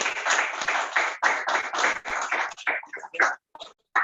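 A crowd applauds with dense clapping that thins out and tapers to a few scattered claps near the end.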